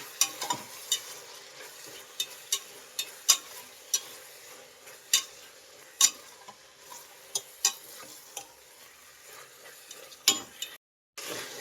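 Tomato pulao with chopped coriander leaves being stirred in a pan, a spoon scraping and tapping in irregular strokes over a faint steady sizzle, close and fairly quiet, with no voices.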